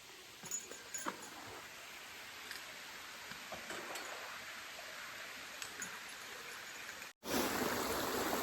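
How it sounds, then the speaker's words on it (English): A small creek on the Benton MacKaye Trail trickles and burbles steadily up close, with a few faint knocks and splashes, then a brief cutout before louder rushing water. "here's the little creek."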